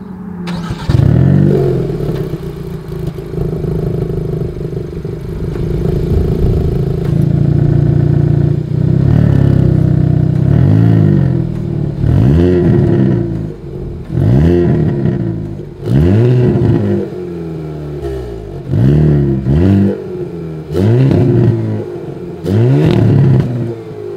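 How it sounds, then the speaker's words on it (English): A 2022 Hyundai Kona N exhaust starting up, then a steady rumbling idle, followed by a long series of sharp, loud throttle blips that rise and fall in quick repeated bursts, recorded close up. "As always, here is that exhaust clip."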